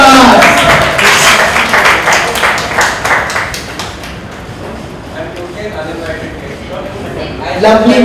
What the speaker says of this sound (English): A round of applause for Vikas.